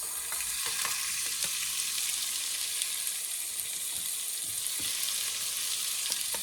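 Small Roma tomatoes sizzle in a hot pan with venison, giving a loud, steady frying hiss close by, with occasional stirring scrapes and taps.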